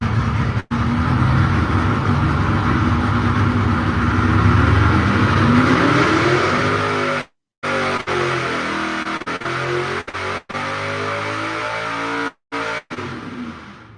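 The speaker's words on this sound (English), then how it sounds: "let's watch an old 1999 steel-headed Pontiac engine go through a quick dyno pull" An old 1999 steel-headed Pontiac dragster engine screams through a dyno pull, rising in pitch as it revs hard and loud for several seconds, then cuts off, followed by a series of sharp throttle blips and brief gaps.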